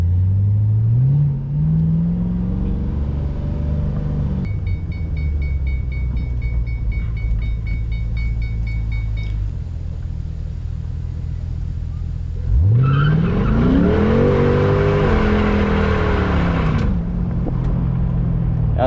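A Mustang and a dirt bike in a drag race: engines rev and rise in pitch through the gears, a loud close pass with a sweeping whine, then a high-revving run fading off.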